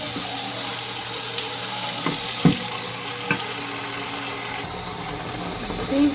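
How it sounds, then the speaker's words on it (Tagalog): Water splashes into a kutsinta mould in a steady hissing stream, with a few clanks of the metal mould in between and a brief bump near the end. "Lagyan natin ng tubig."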